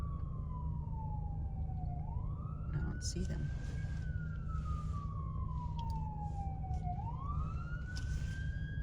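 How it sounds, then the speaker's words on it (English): Ambulance sirens wail with slow rising and falling sweeps over steady traffic rumble in Los Angeles, while a person speaks briefly nearby. "You hear the ambulances?"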